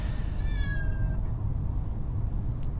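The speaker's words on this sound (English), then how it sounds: "I just got a meowing cat in the corner." A cat meows once indoors, a short high cry rising and falling, faint and somewhat distant in the corner of a room under steady low background hum.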